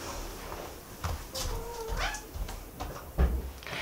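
A house cat meows after being let out of a room, a faint drawn-out cry over quiet indoor background, with a soft knock or thump near the end.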